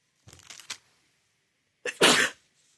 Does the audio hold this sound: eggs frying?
no